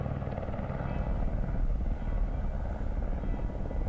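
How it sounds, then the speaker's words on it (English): Steady low rotor thump of the papal helicopter running continuously, loud and close, with some faint voices mixed underneath. "live pictures here of Pope Benedict XVI as he prepares to board the papal helicopter."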